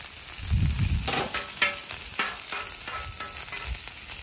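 Garlic sizzles and fries in butter on a flat griddle beside salmon, a steady close crackle with a few stirring scrapes and no talk.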